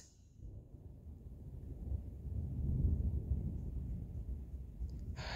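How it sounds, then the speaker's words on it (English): Thunder from a thunderstorm rolls in as a low, broad rumble that swells over several seconds and stays heavy, distant-sounding and muffled, with no talking. "There goes the thunderstorm again."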